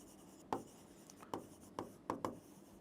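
A pen scratches on paper in several short, quiet strokes spread unevenly across a few seconds, close by in a calm room during a maths lesson.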